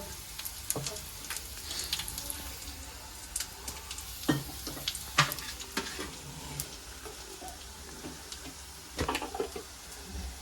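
Onion frying and browning in a pan, a soft continuous sizzle broken by sharp irregular pops and spatula clinks, fairly quiet and close, with no speech.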